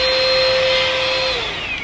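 A small, lightweight handheld two-in-one vacuum cleaner runs close by with a steady, high-pitched whine and airy rush, its tone dipping slightly near the end.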